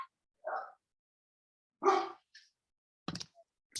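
A puppy named Coco barks and yips indoors in short, separate bursts, close and fairly loud with silence in between, including a few higher, whiny yelps.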